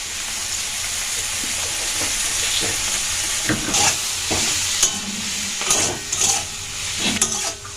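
Fenugreek greens fry in a pan under a steady, loud sizzle, with repeated scraping stirs growing more frequent toward the end.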